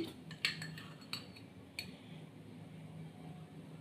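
A spoon adds flour into two greased cake moulds, making a few light metallic clinks and taps against the tins over a quiet room background.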